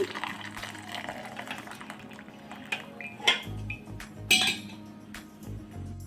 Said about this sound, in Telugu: వేరే గిన్నెలోకి సిక్కంలోకి ఇలా వడపోసుకుందాం.